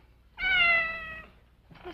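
Close, clear single drawn-out meow from a cat, loud and tonal for nearly a second, followed by the start of a second fainter cry.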